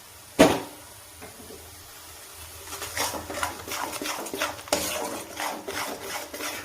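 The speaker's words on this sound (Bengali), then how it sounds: "এবার ভালো করে এটাকে কষবো।" A spatula scrapes and stirs spice paste frying in a pan for a potato curry (alur dom). A sharp knock opens the sequence, followed by repeated rasping strokes that grow busier and louder toward the end.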